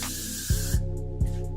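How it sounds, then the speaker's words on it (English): Hair spray hisses in a steady pressurized burst onto hair, followed by three short sharp puffs, close and loud with no talking. "So I'm gonna use a little bit of It's Gotta Be spray."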